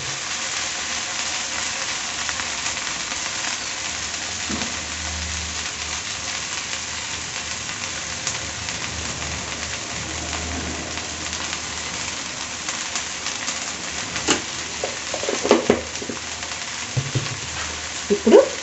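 Sliced okra frying in a pan on a low flame while being stirred, a continuous soft sizzle with occasional scraping clatters of the spoon that grow more frequent near the end; no talk.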